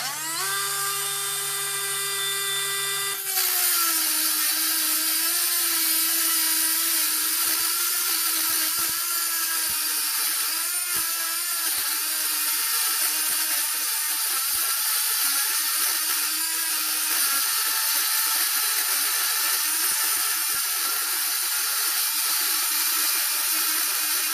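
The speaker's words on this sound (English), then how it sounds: "now let's see how this cordless Dremel does on this chain" Cordless Dremel rotary tool grinding into steel chain, a loud, steady high-pitched whine with a strained, wavering cutting tone after a brief lighter spin-up, continuous for the whole stretch with no talk.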